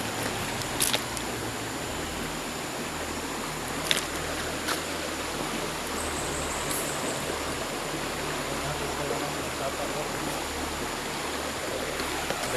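A mountain creek flows along a hiking trail, giving a steady, full rush of running water that stays even and close throughout, with a few faint clicks on top.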